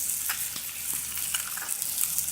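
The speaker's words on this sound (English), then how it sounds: "Stir up this stuff so I don't burn it." Frying pierogies and corn sizzle steadily in a pan over a campfire as they are stirred, a soft continuous crackle with faint scraping, no talking.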